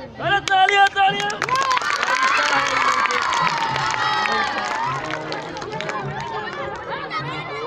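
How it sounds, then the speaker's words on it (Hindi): Children at a school event cheering and shouting together, a loud, lively burst of crowd voices that settles into steady babble, with an adult calling out over it. "अरे तालियां तालियां।"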